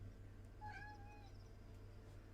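A cat in the video game Wildsong gives a single faint, short rising-and-falling meow over a steady low hum, with no talk.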